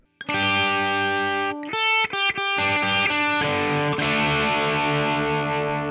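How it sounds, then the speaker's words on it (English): Electric guitar through an AmpliTube 5 guitar amp, distorted chords and single notes with a chorus-like shimmer, strummed loud and sustained, a short choppy burst in the middle, no voices. "From my electric guitar in channel 1, we can hear the guitar amp."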